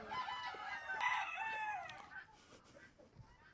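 Chickens on a farm, a rooster crowing loudly and close with a long drawn-out call, followed by scattered hen clucks and farmyard murmur as the crow fades.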